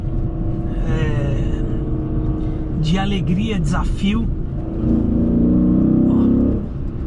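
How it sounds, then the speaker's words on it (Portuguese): Dodge Charger SRT8 with a 6.1 V8 engine idling with a deep, loud burble, then a brief rev swelling near the end, under someone talking close by. "O ronco desse carro é um negócio animal."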